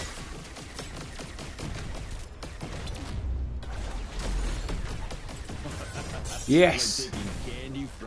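Gunfire in the VR video game Swarm 2, rapid crackling bursts of shots running under a player's talk, with a louder impact near the end.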